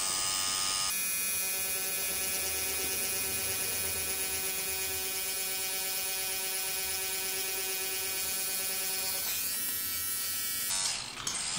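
A tattoo machine buzzes steadily and loudly with a harmonic electric whine while its needles run lightly and quickly over the top of skin during background shading on a realistic skull tattoo, continuous for about ten seconds with no talk.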